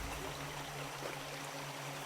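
Steady broadband rush of the Cipamingkis River flowing in a continuous wash of moving water, constant and unbroken throughout with no voices.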